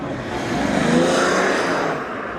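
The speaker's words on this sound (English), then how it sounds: "6-cylinder diesel." A 6-cylinder diesel car engine at a car meet revs up and holds a loud, rough, close roar for a couple of seconds before easing off slightly.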